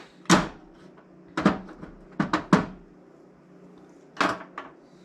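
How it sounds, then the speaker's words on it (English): A shop drawer or cabinet being handled, with a series of sharp wooden knocks and bumps: one early, a cluster of three or four in the middle, and a final pair near the end, close and fairly loud. "This drawer's pretty much empty."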